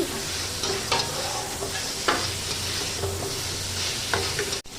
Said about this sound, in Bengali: এবার আমি সাতলে রাখা ফুলকপিগুলো এর মধ্যে দিয়ে দিচ্ছি